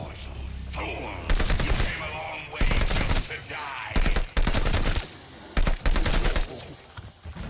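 Bursts of automatic gunfire in Call of Duty Vanguard Zombies, loud rapid volleys lasting about a second each and separated by short pauses, repeating several times close up.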